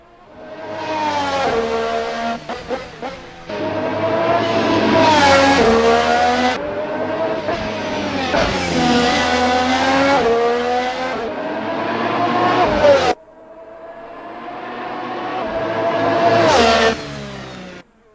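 A 2019-spec Formula 1 car in the racing sim Assetto Corsa screams loudly up through its gears, with rising high-pitched engine sweeps, sharp upshift cuts and a brief drop in sound before another climb, with no talking.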